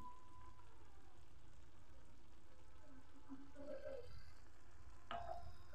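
Cabbage curry with garam masala and ghee is stirred in a pan, a soft continuous sizzle with occasional faint scraping clicks from the spoon, quiet and close, with no talk.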